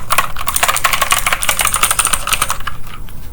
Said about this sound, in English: today, we are going to be talking about my new keyboard